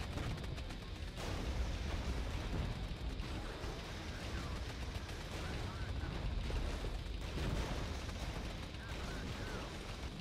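Explosions and heavy gunfire from a tank being destroyed by a fatal hit in the strategy video game Regiments, a dense, continuous barrage of booms and blasts that stays loud for the whole stretch.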